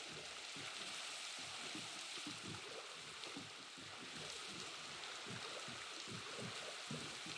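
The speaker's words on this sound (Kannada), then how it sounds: "ಮಳೆ ಬರ್ತಾ ಇತ್ತಲ್ಲ." Rain falling in a Minecraft desert, video game weather: a soft, steady hiss of dense patter with faint irregular ticks throughout, quiet and unbroken, without speech.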